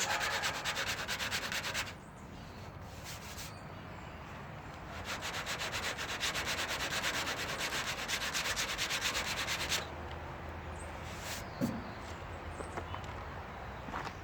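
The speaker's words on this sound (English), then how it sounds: "I'm not putting any pressure on the sandpaper. I'm just trying to get the overlap level out." Hand sanding on the bodywork of a 1957 Chevy with light pressure: a steady, close scratchy rubbing with bursts of quick back-and-forth strokes that come and go.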